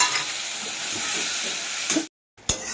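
Ground spice paste and puréed tomato fry in a pan with a loud, steady hiss, cutting off abruptly near the end before a brief sharp return.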